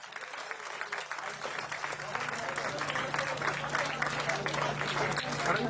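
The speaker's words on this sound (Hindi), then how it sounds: "तालियां।" A village crowd claps loudly and steadily in sustained applause that builds slightly over several seconds, with a low hum running underneath.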